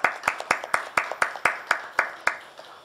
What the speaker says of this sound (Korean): 모든 감사와 영광의 박수를 올려드리겠습니다